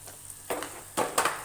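Spices for aloo baingan roasting and being stirred in oil, a low quiet sizzle broken by three short scraping stirs of a spoon in the pan.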